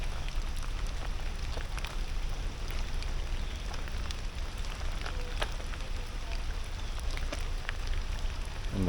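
Steady rain pattering on a surface in the California redwoods, with scattered close drips and ticks throughout, continuous and fairly loud.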